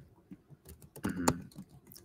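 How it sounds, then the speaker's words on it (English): Typing on a computer keyboard, a scattered run of soft key clicks with a brief louder burst of taps in the middle, close and quiet with no talking. "What are you typing?"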